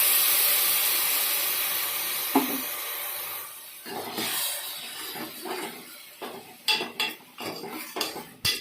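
Blended medium-size tomato puree poured into a pan for chana masala, starting with a soft sizzle, then scraping and clattering of a spoon against the metal pan in irregular close knocks as it sautés.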